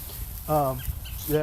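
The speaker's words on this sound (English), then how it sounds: "You can hear the rooster in the background from my daughter's little project here." Backyard hens clucking with a rooster nearby, a short tonal cluck rising over background noise and another beginning at the end, while a voice talks underneath.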